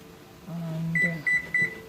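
Electronic timer being set for 40 minutes while sweet red mango preserves cook on the stove: a few short, faint, high beeps in a quick cluster over a low background hum.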